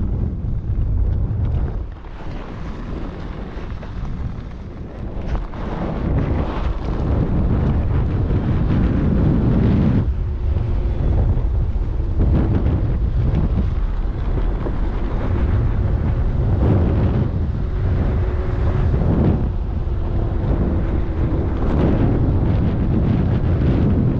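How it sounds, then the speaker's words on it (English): Steady wind rush buffets the microphone throughout a ride on a 72-volt bomber-clone e-bike heading to Santa Fe Dam, a loud continuous low roar with gusty swells and no talking. "I think we got the wind at our backs."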